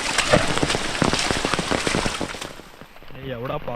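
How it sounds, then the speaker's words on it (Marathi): Heavy monsoon downpour in a Konkan village, a dense steady hiss of rain with sharp drops pattering on surfaces, loud and close. It eases near the end, where a voice speaks. "असा तरी पाऊस नको."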